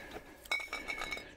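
Glass bottles clinking together, a few light, bright chinks and rattles in quick succession, close and fairly quiet with no talk.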